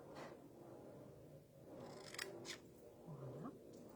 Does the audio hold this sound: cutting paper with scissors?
yes